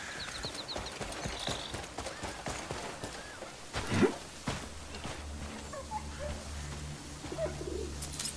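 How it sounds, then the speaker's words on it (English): A messenger bird in Crimson Desert chirps and coos faintly against an outdoor game soundscape, with horse hooves clip-clopping and soft ambient noise throughout. "It's the messenger bird"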